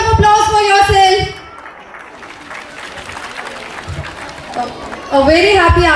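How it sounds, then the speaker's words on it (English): Audience applause at a school annual function: a steady, moderately loud wash of clapping from a large gathering fills the middle of the clip, with a voice speaking over a loudspeaker before and after it. "Please have a big round of applause for yourself."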